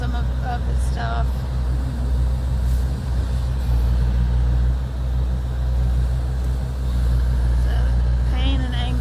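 A bulldozer working at the demolition of a tent camp along the I-240, a continuous heavy low diesel rumble with a few hissing and squealing bursts, while people talk over it.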